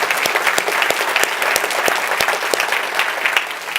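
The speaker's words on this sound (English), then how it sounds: "Can we give a round of applause for those who know her from there?" An audience at a conference event gives a steady round of applause, dense clapping from a crowd continuing throughout with no talking.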